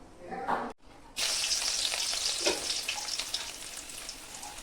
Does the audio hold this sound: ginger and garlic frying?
yes